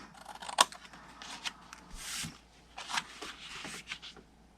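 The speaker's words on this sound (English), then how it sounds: "cut it to the first score line, and then wedge each side of the square" Scissors snipping scored cardstock for a Christmas mitten gift box, a few short crisp cuts with soft paper rustles and handling noises between them, close and quiet.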